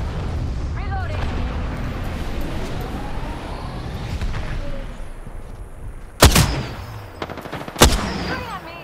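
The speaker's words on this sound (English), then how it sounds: "Shots fired, and they're hitting me." Gunfire in Apex Legends, a muffled battle backdrop with distant shots and chatter, then two loud sharp gunshots a second and a half apart near the end.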